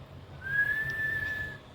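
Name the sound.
patient whistling during a cranial nerve exam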